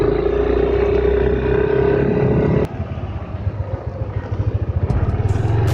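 A 2020 Yamaha Nmax scooter rides around a housing complex on a hot midday, its engine a loud, close hum that drops abruptly partway through and then pulses unevenly as it carries on.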